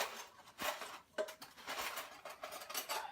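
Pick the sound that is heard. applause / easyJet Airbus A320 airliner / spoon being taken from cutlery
spoon being taken from cutlery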